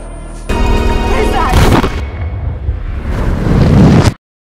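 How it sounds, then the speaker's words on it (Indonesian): A film explosion erupts in a loud, rolling blast with crackling debris and rumbling low-end that sustains for several seconds amid gunfire-like bursts, then cuts off abruptly. "Setelah ledakan terjadi"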